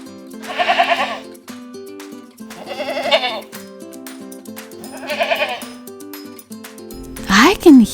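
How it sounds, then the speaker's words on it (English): Goat bleats on a children's farm-animal sound track, three distinct wavering bleats evenly spaced and fairly loud, followed by a brief rising and falling tonal sound at the end. "What animal makes that sound? Oh, it's a goat."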